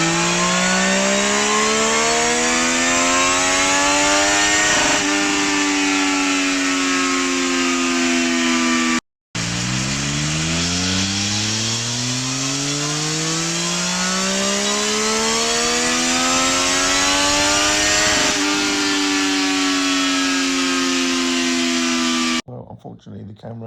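A 2023 Triumph Street Triple 765RS motorcycle revs hard on a dyno before a full exhaust is fitted, its engine pitch climbing steadily through the gears in two long sweeping pulls, loud and close, with a brief cut between runs.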